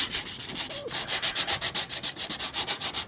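Rust is scrubbed off a Frigidaire refrigerator part in quick, rhythmic back-and-forth rasping strokes, close and even, with a short pause early on. No voices.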